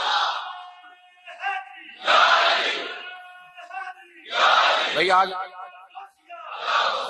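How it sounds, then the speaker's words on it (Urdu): A large crowd at a religious gathering marking the Battle of Badr shouts slogans in loud, repeated bursts, three or four swelling roars answering a leader's call, with a voice speaking between them. "تو آج تو ٹھنڈا ٹھنڈا نعرہ نہ لگائیں"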